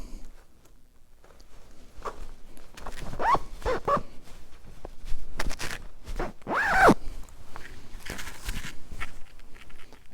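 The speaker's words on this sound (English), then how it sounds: "Zip this jacket up." A Sitka Celsius midi jacket zipped up with a quick, close zipper rasp, preceded by soft rustling of fabric and a second longer zip pull near the middle.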